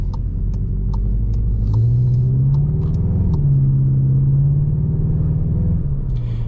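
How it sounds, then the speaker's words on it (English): A 2024 VW Jetta GLI 40th Anniversary in sport mode, its engine sound piped into the cabin, gives a steady, loud low rumble that climbs in pitch around the middle and then holds as the car drives on. "in sport mode, we get a bit of piped in engine noise"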